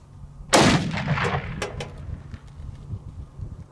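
A single loud gunshot from an Accuracy International Mk13 sniper rifle in 300 Win Mag with 180 grain rounds, sharp crack followed by rolling echoes that fade over a few seconds outdoors.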